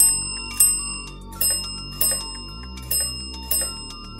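Internet-connected bell, home-built with Arduino and 3D-printed parts, ringing in a steady run of about six bright strikes roughly every half second, each leaving a ringing tone over a low hum.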